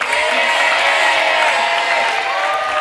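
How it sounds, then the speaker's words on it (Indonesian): Studio audience applauding and cheering on the Indonesian game show Family 100 as a contestant is introduced, a steady dense wash of clapping with some whoops that fills the whole moment. "Tepuk tangan dong untuk Ferry."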